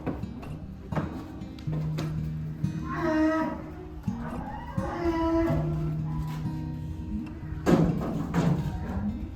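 Cattle being unloaded from a truck at a farm, with several deep drawn-out moos, dull hoof thuds and bangs against the vehicle, and scattered background noise between the calls.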